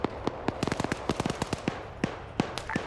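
A video game firefight: sharp gunshots crack out in an irregular string, some in quick clusters, others spaced apart, loud and punchy with no voices over them.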